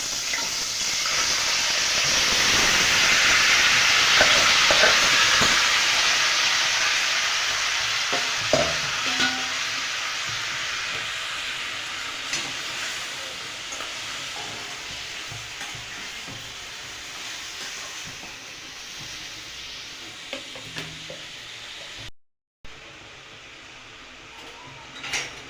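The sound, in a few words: mutton frying and being stirred in oil in a kadhai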